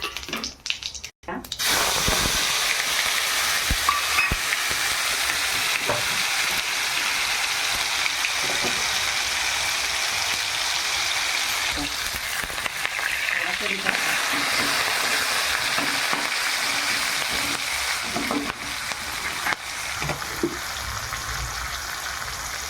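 Cumin seeds, added after mustard seeds, sizzle in hot oil for aloo matar, a steady close hiss with faint crackles that runs throughout.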